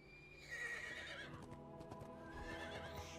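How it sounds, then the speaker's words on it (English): Horse in the LEGO Lord of the Rings video game, a continuous whinny with clopping hoofbeats running underneath it, steady and mid-distance with no voices. "Shadowfang is the lord of all horses and has been my friend through many dangers."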